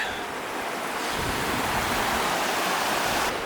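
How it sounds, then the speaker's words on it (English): Rushing river water on a wooded gorge hiking trail, a steady broadband roar close to the microphone with a slight gust of wind, no talking. "Look at this river."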